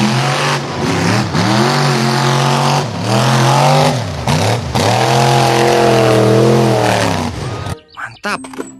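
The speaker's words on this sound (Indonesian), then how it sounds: "Wih, mobil monster." Monster truck engine revving repeatedly, loud rising and falling engine pitch in several surges, close by, ending abruptly with brief clatter.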